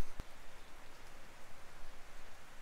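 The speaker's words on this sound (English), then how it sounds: "Just started raining again" Rain starting to fall on a farm as drought breaks, a continuous broadband patter close by with no talking over it.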